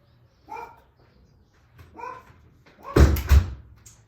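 Dog barking at home, two separate single barks a second or so apart, followed by a louder pair of thumping knocks like a door being handled.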